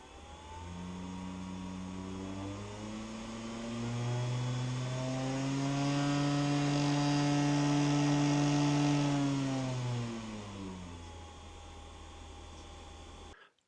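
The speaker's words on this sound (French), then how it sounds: "un ventilateur Dyson qui fait un sale bruit comme si un roulement était foutu" A Dyson fan running with a harsh, worn-bearing sound: a droning, whining tone that rises in pitch and loudness, holds for several seconds, then slides back down, steady and close, with no talking.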